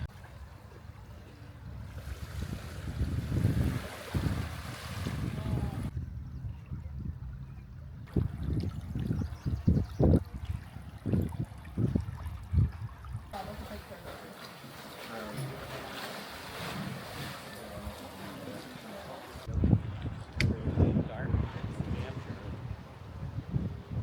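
Atlantic surf rushes and booms into a rocky sea cave at Thunder Hole, Maine, in repeated surges, with wind noise and occasional voices nearby.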